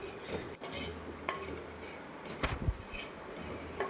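Grated coconut being stirred in a pan for fish curry, with scattered scrapes and clinks of a utensil against the pan over a low, steady background, fairly quiet and without speech.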